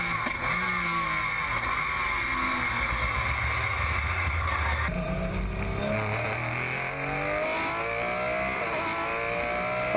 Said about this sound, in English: we see this battle now with Yuey Tan in the Wim Mobilise car from McElrea Motorsport